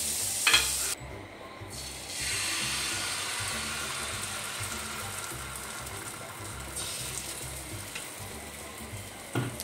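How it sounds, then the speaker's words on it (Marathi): Butter melting on a hot griddle before pancake batter goes on, a soft, steady sizzle at low level under faint kitchen hum, no voices. "तवा टाकलेला आहे तर आता आपण ह्याच्यावरती बटर टाकूया"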